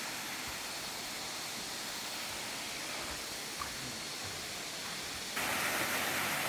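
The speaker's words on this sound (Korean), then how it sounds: "이렇게 폭포물이 흘러내리고 있어요" Small Wonang waterfall below Hallasan on Jeju, water falling and flowing: a steady, soft broadband rush with no pauses, growing slightly louder near the end.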